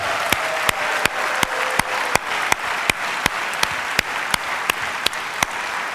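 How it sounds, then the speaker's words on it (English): Applause at a 2015 graduation ceremony, a sustained crowd clapping evenly with a loud, regular sharp beat running through it, steady throughout and without speech. "I wish you would give a loud, big hand of applause for Raymond Sackler."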